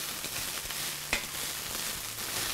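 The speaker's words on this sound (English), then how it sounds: "So you can hear the sizzle" Greens wilting in butter and oil in a hot pan, a steady soft sizzle and frying crackle with a few light stirring taps, close and fairly quiet.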